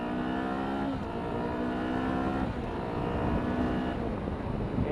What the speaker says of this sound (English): you gotta rev it out a fair bit to get it where it's going, but it makes a lovely sound